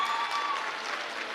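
An audience applauds at a talk about dating and marriage, a brief steady burst of clapping heard on its own.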